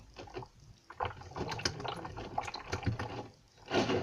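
Homemade slime made with contact lens solution and bicarbonate of soda soaks in a container of water, giving soft sloshing, squelching and dripping sounds at close range, with a louder splashy burst near the end.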